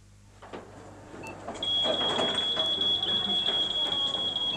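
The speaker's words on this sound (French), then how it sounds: "À la sortie du magasin, le bip sonne." A steady high shop anti-theft gate alarm tone starts partway through at a store exit and holds continuously, with background noise and movement around it.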